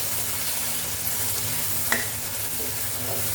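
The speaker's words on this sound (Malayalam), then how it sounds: "നമുക്കൊന്ന് ഇളക്കാം" Turmeric and spice powders being stirred into a frying moong dal sambar base, a steady close sizzle with a single sharp scrape of the spoon partway through, no voices.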